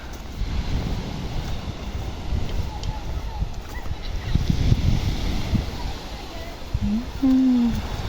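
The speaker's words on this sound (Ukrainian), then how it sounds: "море." Sea waves and wind roll in on a sandy beach in Spain, a steady low rushing wash with gusts buffeting the microphone and faint voices nearby.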